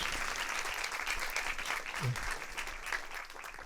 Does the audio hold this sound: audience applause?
yes